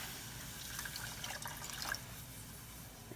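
Water being poured into a pot for a teriyaki glaze alongside brown sugar and pineapple juice, a faint, brief splashing and dripping trickle.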